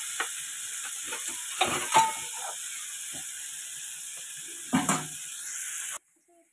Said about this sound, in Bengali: করলাতে কিছুই দিইনি, শুধু নুন আর হলুদ দিয়েছি, দিয়ে বসিয়ে দিয়েছি, এটা একটু ভাজা হোক।